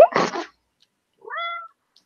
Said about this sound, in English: See, the cat disagrees with you